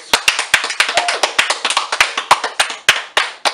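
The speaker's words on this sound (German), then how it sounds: "Einen großen Applaus für dich!" Hands clap in a rapid, slightly uneven run of sharp, close claps, loud and forward, like a few people applauding together, heard alone without any talk.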